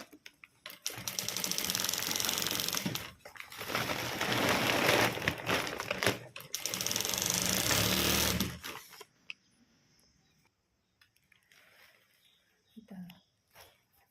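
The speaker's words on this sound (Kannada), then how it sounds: "ಈಗ ನಾನು ಇದು ಹೊಲಿತೀನಿ" Sewing machine running in long, close bursts while stitching a feed sack, broken by brief pauses, then quiet handling noises and a few faint soft sounds afterward.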